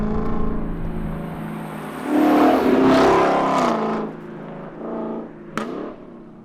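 A Lexus LC500 luxury GT coupe drives on a street, its engine revving up loudly for a couple of seconds, then dropping back, followed by a shorter, quieter burst and a sharp mechanical blip near the end.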